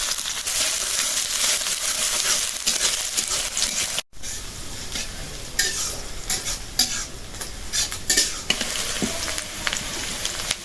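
Onion and green chili frying in a hot pan, a loud continuous sizzle with frequent stirring scrapes and clinks, briefly cut to silence partway before the frying resumes.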